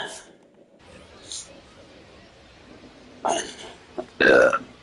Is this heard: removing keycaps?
no